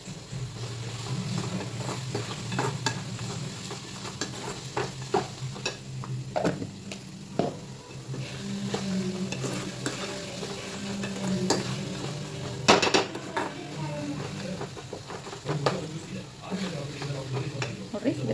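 Sliced onion with chilli powder stirred in a hot frying pan, steady sizzling with frequent scraping and clinking of a spoon against the pan, close up, with occasional speech in the background.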